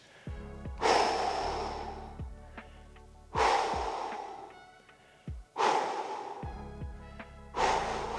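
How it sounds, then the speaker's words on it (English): Heavy rhythmic breaths, loud and close, during a lower back mobility exercise: four deep inhale-exhale cycles with audible snorting exhales, no talking. "And we're breathing 30 seconds."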